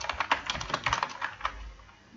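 A company name is typed on a computer keyboard in a quick, uneven run of close, crisp key clicks that thin out and stop toward the end, with nobody speaking.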